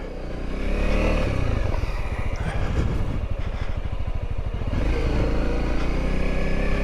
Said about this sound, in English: Somebody's practicing their dirt bike turns here.